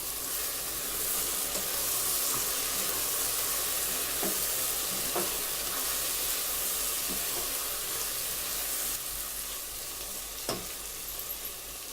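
Okra and potato curry seasoned with a pinch of garam masala is stirred in a non-stick pan, a steady sizzle and frying hiss running throughout with occasional soft scrapes and clicks of the spoon, with no talking.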